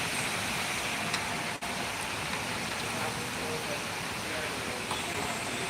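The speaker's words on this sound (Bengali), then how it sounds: "হ্যাঁ কি সুন্দর বৃষ্টি" Steady rainfall pours down outdoors in a broad, even hiss, with a brief dip partway through, heard close and alone without speech.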